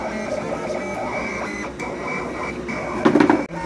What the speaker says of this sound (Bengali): মেশিনে কাটিং হচ্ছে